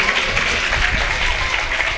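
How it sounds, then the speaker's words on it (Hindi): An audience at a religious gathering in India claps loudly and continuously, a dense, steady roar of many hands with voices mixed in. "वह जोरदार तालियां बजाएंगे भैया के"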